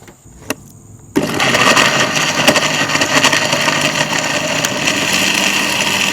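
A blender starts abruptly and runs with a loud, steady motorized whirr as it grinds a thick paste of shrimp paste, chili powder, black peppercorns and water.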